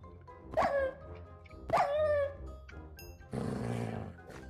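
Minecraft dog letting out two sharp, close barks a second apart, followed by a burst of rough, noisy growling, with nothing else in the foreground.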